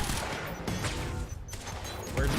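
Rapid carbine gunfire in the video game Quantum Break, a dense volley of sharp shots with brief gaps, loud and close over a busy background.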